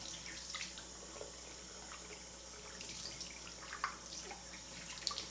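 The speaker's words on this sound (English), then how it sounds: "And then I just rub it under the water, rubbing on the little pad there too." A makeup sponge and its little pad are rubbed and rinsed under a running tap, giving a steady hiss of water at moderate level with a few faint splashes and clicks, no talking.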